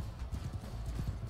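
Horse hooves galloping in Mount and Blade II Bannerlord during a cavalry battle, a steady rapid clip-clop of several hoofbeats, close and loud against low battle rumble, with no talk.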